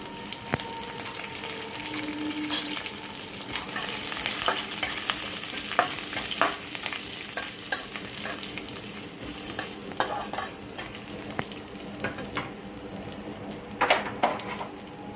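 Garlic and curry leaves frying in hot oil in a home kitchen pan, a continuous close crackle and sizzle with frequent stirring clatters throughout, no talking.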